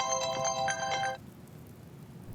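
A mobile phone ringtone plays loudly in a household for about a second with a bright repeating melodic pattern, then cuts off, leaving quiet room tone.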